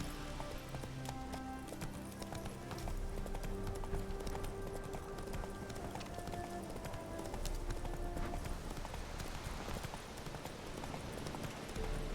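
Hoofbeats of Roach, the horse in the Witcher 3 game, galloping at a steady run with a rapid clip-clop rhythm that lasts throughout, under game ambience and music.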